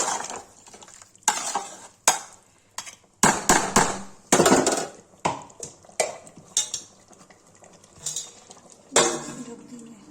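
Mutton masala gravy cooking in a pan, a loud close clatter of a spoon stirring and scraping against metal in repeated bursts, with some sizzling underneath.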